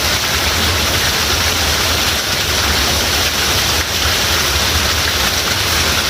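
Water runs through a ravine in a nature reserve, a steady, loud, broadband rush that fills the whole stretch without a break, with no talking over it.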